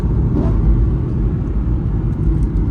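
A BMW E36 328i pulls hard in second gear, its engine a loud, steady low rumble and drone heard from inside the car, with no talk over it.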